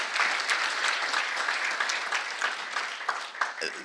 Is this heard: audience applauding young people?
yes